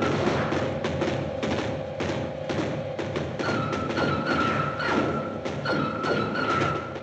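An artillery battery fires in a sci-fi film about flying saucers, with a rapid series of sharp thuds and booms in an irregular barrage, backed by a steady rumbling tone.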